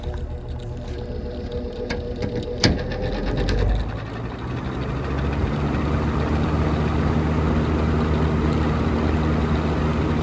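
Vintage box fan switched up to medium speed, a steady broadband whoosh of moving air with a low motor hum, rising slightly in strength partway through and then holding constant, close and continuous with no talking.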